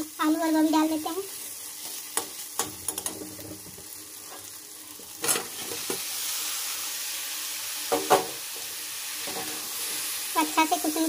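Potatoes and cabbage are tossed into softened tomato in a pan and stirred, giving a low background sizzle broken by intermittent scraping and clattering strokes of a spoon; a voice is heard briefly at the start.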